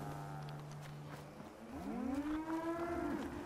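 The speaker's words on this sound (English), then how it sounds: "Moo!" A cow in a video game gives one long, drawn-out moo that rises and holds, heard alone over a low steady background hum.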